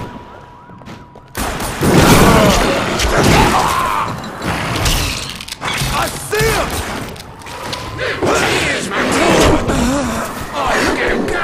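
Gunfire and chaotic combat in The Darkness 2 video game, sharp shots, thuds and crashes amid loud game effects, with voices shouting over the action.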